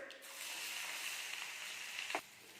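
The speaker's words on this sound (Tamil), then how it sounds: "அடுத்தது வெங்காயம் ஆட் பண்ணிக்கலாம்" Onions frying in a pan of hot oil with mustard seeds and roasted peanuts for a bitter gourd fry, a continuous close hiss that swells after a moment, with a brief scrape near the end.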